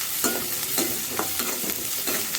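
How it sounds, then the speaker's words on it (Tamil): Onion sautés with grated ginger and garlic in a pan, giving a steady sizzle broken by quick, rhythmic scraping stir strokes several times a second, close and clear. "வெங்காயம் சேர்த்து வதக்கினதுமே நம்ம எடுத்து வச்சுருக்க இஞ்சி பூண்டு துருவலை உள்ளே சேர்த்துடலாம்."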